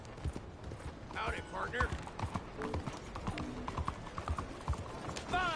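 Horse hooves clip-clopping in a steady trotting rhythm while riding in a PS4 video game, close and clear, with a character's voice speaking over it.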